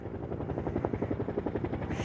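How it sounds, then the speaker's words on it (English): Several helicopters thump overhead with a steady rapid rotor beat, loud and continuous, as they water-bomb a wildfire near a university campus. "You can hear 3 helicopters above me trying to douse the flames"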